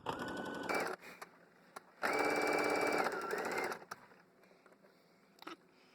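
A sewing machine stitches fabric for an apron in loud, close bursts of fast whirring, a short run, a pause, then a longer run with a shift in pitch, followed by quieter clicks and handling.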